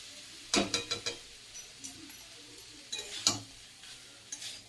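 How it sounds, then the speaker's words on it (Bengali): Poha tipped into a pan of cooked carrot and potato, then stirred: a few scraping, rustling strokes with a soft sizzle, two clustered bursts close by, no talking. "এবার আমি পোহাটা দিয়ে দিচ্ছি।"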